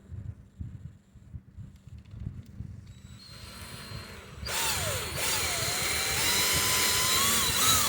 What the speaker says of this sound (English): There's my big old drill. You'll hear it.